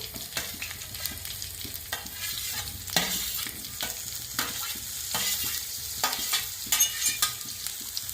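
Chopped onion sizzles steadily in a hot pan after fennel seeds, for a Kerala ladies finger milk curry. A spatula scrapes and taps the pan at a steady rhythm over the close, continuous frying hiss. No one speaks.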